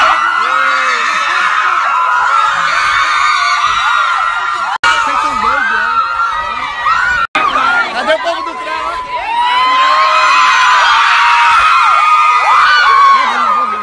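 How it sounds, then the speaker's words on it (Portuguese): A large crowd of fans shouts, screams and cheers outside at an airport, a loud, continuous roar of overlapping excited voices with brief dips and swells. "Colega, tá ouvindo uma gritaria lá fora?"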